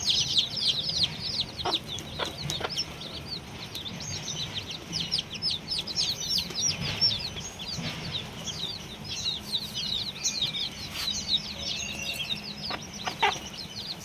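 Native country chickens cluck and chirp in a steady, busy chorus, with scattered sharper calls and faint clicks over a low background rumble.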